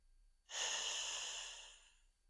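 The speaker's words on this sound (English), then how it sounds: "take another big breath in, and then allow yourself to settle a little bit deeper on the exhale" A single deep yoga breath in a quiet room, a broad airy whoosh that swells at once and tapers slowly, close to the ear with no talking.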